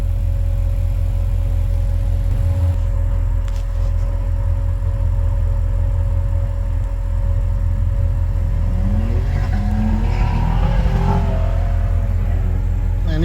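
A 1987 Chevrolet Monte Carlo SS driving on the road, heard from inside as a loud steady engine rumble with road noise, rising slightly as it accelerates near the end, no talk.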